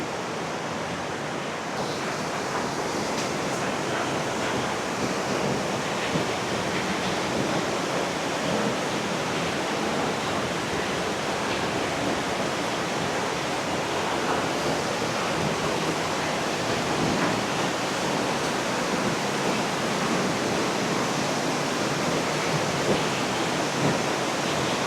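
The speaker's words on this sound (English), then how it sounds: "I think you'll be able to hear me a little better, hopefully, and still hear the waterfall" Zapata Falls pours in a loud, unbroken roar of rushing water, a broad constant hiss filling the whole stretch without pause, heard close up.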